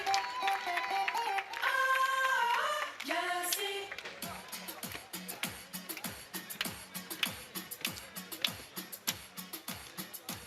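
Volleyball spectators applaud at the start of the third set of a final, steady rhythmic clapping following a stretch of music, moderately near.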